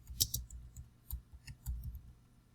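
Sparse keyboard clicks on a computer while searching for pictures in Jamboard, a few soft irregular keystrokes close by and fairly quiet, with no talking.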